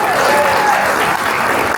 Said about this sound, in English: A round of applause for Tanya Hamilton again.